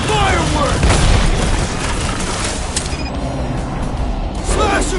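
Fireworks blasting in Marvel's Guardians of the Galaxy during a fight, a burst of booms and crackling pops up front, then rattling mechanical clatter and a second eruption at the end, mixed with voices shouting.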